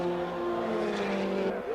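Race cars, among them Jay Hill's Lola, lapping a track in a 1988 SCCA National Championship race, their engines a steady, sustained drone at moderate distance with one car's note shifting as it passes.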